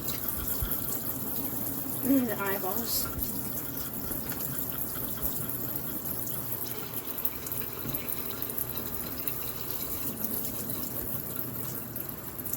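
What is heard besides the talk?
rinsing caught bass under running tap water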